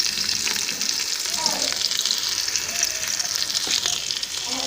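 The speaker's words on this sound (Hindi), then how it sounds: "जब तक प्याज ब्राउन हो रहा है" Sliced onions frying toward light brown in a pan for tinda curry give off a continuous loud sizzle with small bubbling pops and occasional stirring scrapes, close and unbroken.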